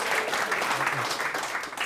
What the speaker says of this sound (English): applause for Andre, please